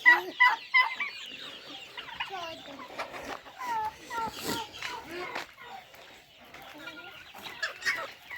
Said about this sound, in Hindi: आपने एक और चूज़े को उठा लिया है, क्यूट है ना?